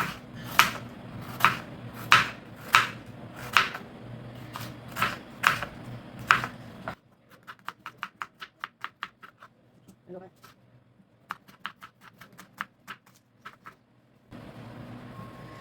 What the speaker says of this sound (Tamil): வெங்காயத்தெல்லாம் அரிஞ்சு வச்சுக்கலாம்